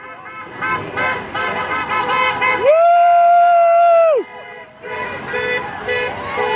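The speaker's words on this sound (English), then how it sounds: "It's awesome how many honks we're getting." A long, loud car horn blares for over a second amid cheering voices and more distant horn toots at a street protest against Betsy DeVos as Secretary of Education.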